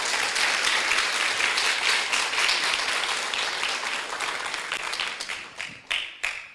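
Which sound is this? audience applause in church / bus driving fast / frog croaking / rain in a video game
audience applause in church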